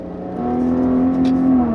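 A 2017 Maserati Ghibli with SQ4 all-wheel drive hums steadily as its engine note climbs smoothly. It sounds close and fairly loud, with no one talking.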